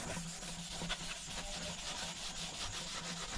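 Quiet, continuous scrubbing as a Scotch-Brite abrasive pad is rubbed back and forth over a painted motorcycle panel at close range.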